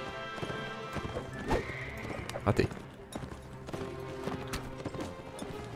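Cavalry horses gallop in a Mount and Blade Warband battle, with rapid hoof clip-clops and a few whinnies at middling volume beneath a voice.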